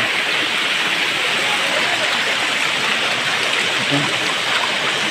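A waterfall at a rocky forest site during a festival outing roars in a dense, unbroken wash of rushing water, loud and close throughout.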